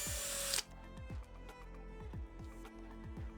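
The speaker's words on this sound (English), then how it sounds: "remove the top section of the FHA drain from your adapter and drill your holes" A power drill bores holes in a drain adapter for an FHA drain, a brief burst of high-speed drilling followed by a series of short, rhythmic motor pulses spaced about half a second apart, close and clear.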